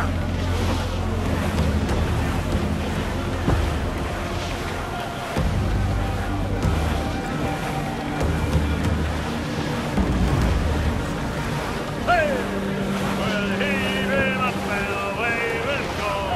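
Steady wind and rushing water surge around a sailing ship at sea in Assassin's Creed IV: Black Flag, with creaking and whistling tones rising later over the constant roar.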